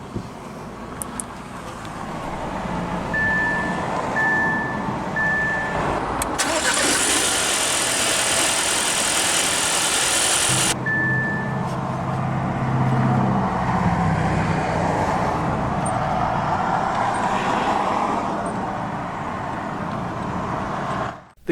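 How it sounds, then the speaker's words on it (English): A 2022 Audi Q5 45 TFSI quattro engine cranks and fires via push-button ignition, then settles into a steady idle with a persistent low hum; a few soft electronic chimes sound. "let's go ahead and start the engine, and it does have push-button ignition"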